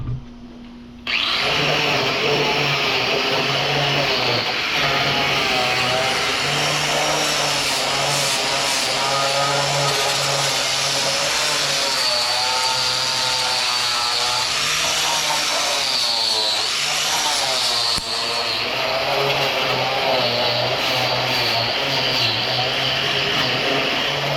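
Power tool trimming the rocker panel of a GM truck, a loud continuous high-pitched whine with shifting pitch that runs steadily for about twenty seconds, with no talk over it.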